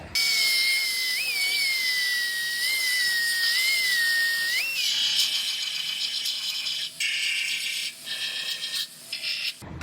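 Spot welds being drilled out of a Subaru inner rail: a high whining drill tone that wavers under load, then shifts into rougher grinding and bites with brief pauses near the end.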